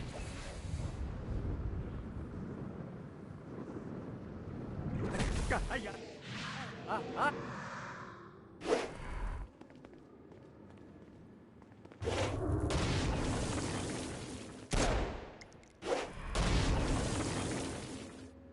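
Stone Blast attacks in Saints Row strike flying demons, heavy booming blasts and bursts of gunfire crashing in uneven clusters while someone narrates over the action.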